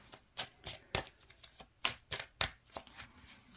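Playing cards are shuffled in a series of quick, crisp riffles and taps, about a dozen bursts in an uneven rhythm, close and fairly quiet.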